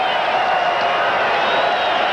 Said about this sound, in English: a good crowd tonight here cheering on the home team